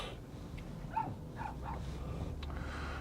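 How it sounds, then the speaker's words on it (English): A puppy lets out a few short barks in quick succession, fairly faint and somewhat distant, over a steady low background hum. "your puppy's sure barking today"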